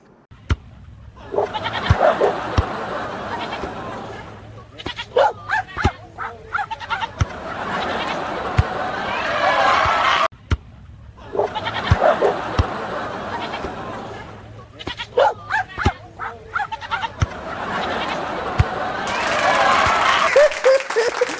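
A goat bleats again and again amid barking dogs and volleyball play in an AI-made scene, with applause, laughter and talk running throughout.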